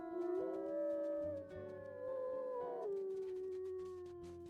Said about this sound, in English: Howling a farewell